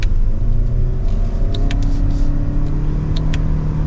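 A 2023 Lexus ES300h F Sport hybrid sedan accelerates from second gear, giving a steady, loud engine drone and road rumble with no break, heard from inside the cabin.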